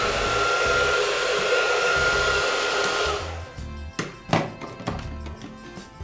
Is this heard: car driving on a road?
no